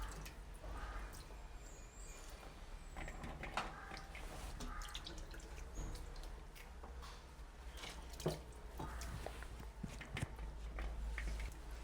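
Soaked cooked rice is squeezed by hand over a vessel, water dripping and splattering in scattered small drops with soft squishing, close and fairly quiet over a steady low hum.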